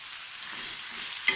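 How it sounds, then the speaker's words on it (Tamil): Onion and tomato masala sautéing in a pan for a mushroom masala dosa filling, a steady soft sizzle with a brief clink of a utensil near the end, close and alone. "2-3 மினிட்ஸ் நல்லா வதக்கணும்."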